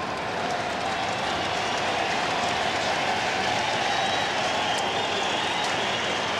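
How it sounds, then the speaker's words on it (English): Crowd applauding at an Australian rules football match, Carlton versus Hawthorn in 2007: a steady, dense roar of clapping and cheering fills the stadium evenly throughout, with no commentary voice standing out. "they're giving him a great round of applause"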